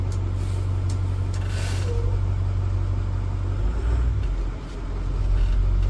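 School bus idling then creeping forward slowly in drive during a brake check, a steady low diesel rumble with brief hissing bursts and a short dip near the end, no talk.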